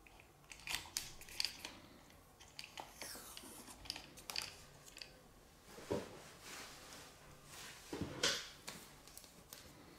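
Masking tape being torn and pressed onto an RC truck during hobby-grade electronics fitting, with crisp irregular rips and crinkles close by, a few louder tearing bursts standing out.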